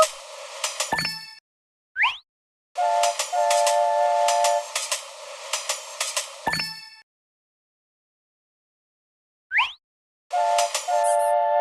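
A toy train chugs in long bursts with a steady hiss, broken by short high whistle toots and pauses of silence between runs.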